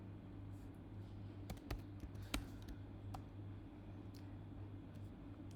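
Keys tapped on a computer keyboard while entering a Python 3 command in a terminal, a few faint scattered clicks over a steady low hum, quiet and close.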